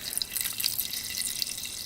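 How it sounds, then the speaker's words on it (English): Water poured into a pot of coconut milk and peas for Jamaican rice and peas, a brief, light splashing and trickling stream heard close and fairly soft. "Then I'm gonna put some water in there."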